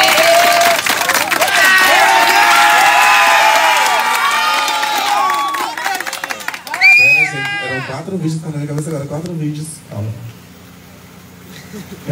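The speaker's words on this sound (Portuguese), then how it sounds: "Então, palmas pra Bia e JV." A crowd at a holiday camp show claps, cheers and shouts loudly for several seconds, then the noise thins out as people start talking close by.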